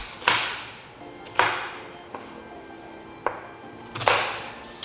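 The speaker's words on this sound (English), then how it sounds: "now that we chopped up the onions" Onions being chopped with a knife on a cutting board in a home kitchen while making vegan lentil soup: a handful of sharp, separate chops spaced about a second apart, near and clear, with no talk.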